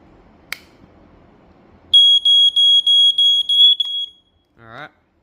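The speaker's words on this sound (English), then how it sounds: "It's just a standard smoke alarm." Standard smoke alarm made in 2019 under test, sounding a loud, piercing electronic tone in rapid repeated pulses for about two seconds, followed by a short warbling chirp as it stops.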